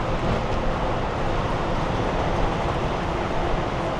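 Loud, steady broadband rumble of a train running at Kansai Airport railway station in Japan, a continuous roar with no clear breaks or voices.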